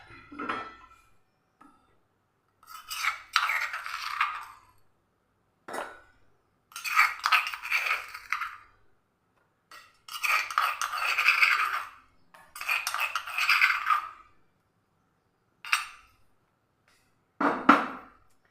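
Crushed ingredients scraped and tipped into a metal vessel in a home kitchen, giving sparse clinks, scrapes and clatters in separate bursts with quiet gaps between them, close and fairly faint.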